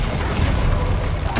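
Explosive spells going off in the game Hogwarts Legacy, a dense run of heavy booming blasts and rumbling impacts close up and loud, with a voice faintly beneath.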